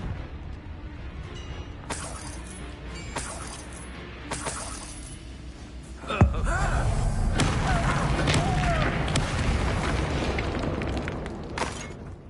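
In Hogwarts Legacy, a Confringo blasting spell detonates with a sudden heavy boom about halfway through, followed by a loud, sustained roar and debris-like rumble. Softer in-game impacts and clatter come before it.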